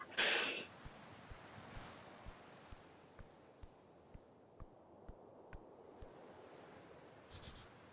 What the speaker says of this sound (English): A sacred river fights against the red rocks.